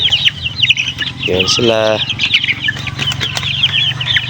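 Rhode Island Red chickens cluck and flap their wings nearby, with a burst of rhythmic clucking in the middle and scattered wing flutters. Someone speaks briefly over them.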